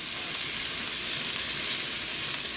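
Lamb meat dusted with a little flour browning in a small amount of oil in a Dutch oven, giving a steady, dense sizzle close up with no talking.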